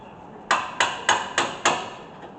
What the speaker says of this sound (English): I like taking my hammer and just hit it a few times to make sure it's tight.